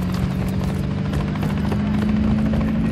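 Helicopter rotors thump steadily and loudly in Call of Duty Modern Warfare III, a dense continuous drone with a rhythmic pulse and no break.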